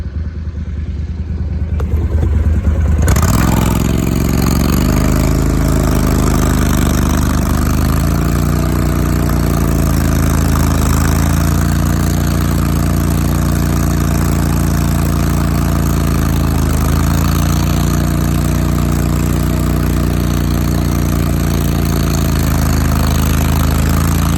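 An Argo Avenger amphibious off-road vehicle drives along with its engine running as a loud, steady drone. The engine comes up after a short quiet start and then holds a constant, slightly wavering hum throughout, with no talking.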